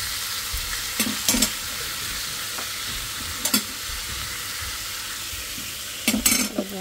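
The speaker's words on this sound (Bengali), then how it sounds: "তো লতি রান্না করতেছি" Taro stolons (lati) stir-fried in a pan, a steady close sizzle of frying with several sharp scrapes and clatters of a spatula stirring against the pan.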